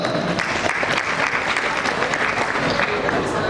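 An audience applauds steadily at an international school closing ceremony during an awards presentation, with dense, continuous clapping filling the hall and a crowd murmuring underneath.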